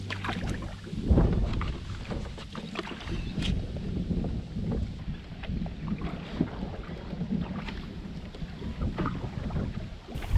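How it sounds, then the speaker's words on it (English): Canoe paddling on the River Wissey in the Norfolk Fens, with soft water swishes and splashes from the paddles under steady wind buffeting the microphone, a headwind blowing, no voices. "We've come out for a paddle from Stoke Ferry to Denver Sluice with my buddy Ginge."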